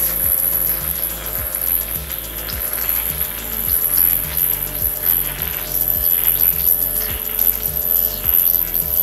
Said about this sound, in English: You can hear the machine making noises.